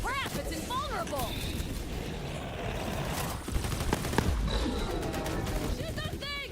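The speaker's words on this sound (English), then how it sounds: "Shoot that thing!" Gunfire in Borderlands 3 rattles out against an enemy, dense crackling shots layered with game effects and chirping sounds, while players talk over the action throughout.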